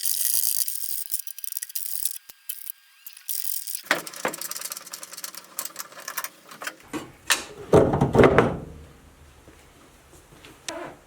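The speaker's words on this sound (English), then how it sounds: "Removing the door isn't too big a deal." The nuts securing a Triumph TR8 car door are worked off with a ratcheting tool, giving bursts of close clicking and mechanical rattling between quiet gaps, with a louder clatter near the end.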